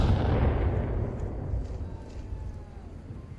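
A grenade explodes in the VR shooter Onward: one loud, deep boom right at the start that rolls off slowly into a fading rumble, with a small sharp pop at the very end.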